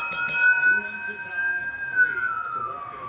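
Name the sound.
siren sound effect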